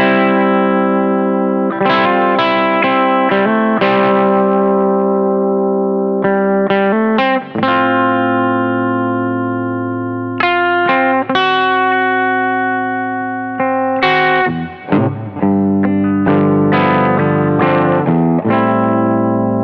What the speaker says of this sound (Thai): โอเคไปฟังเสียงปิกอัพตัวบลิดกันต่อครับผม